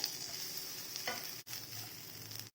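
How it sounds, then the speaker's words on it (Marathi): Fresh grated coconut and dry fruits sizzle and hiss while being stirred in a hot pan, close and steady with a brief pause midway. "त्याच्यामध्ये आपण आता हे घेतलेले 1 वाटी ओलं खोबरं टाकून घेऊया"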